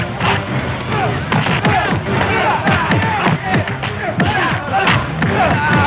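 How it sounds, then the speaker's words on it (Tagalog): Loud excited crowd yelling and cheering over a booming explosion, with dense overlapping shouts and thuds throughout, voices calling out amid the commotion. "Naku, sir! Sumabog na bulkan!"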